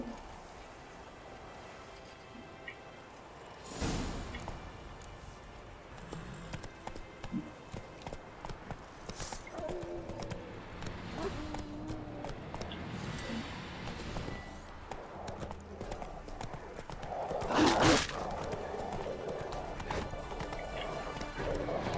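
Roach the horse from The Witcher 3 clip-clops along with hooves striking steadily, mixed with in-game ambience and a sharp louder burst near the end.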